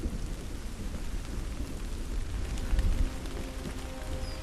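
Steady rain pours down with a low rumble of thunder rolling in the background, building briefly before easing.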